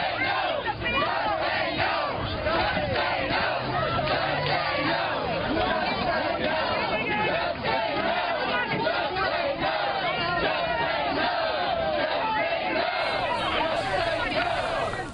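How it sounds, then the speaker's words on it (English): A town hall crowd at a grocery store in Austin chants and yells in a dense, continuous roar of many voices, loud and close throughout, with the chanted phrase hard to pick out from the general shouting. "What you may or may not be able to make out there is the crowd yelling, "Just say no, just say no.""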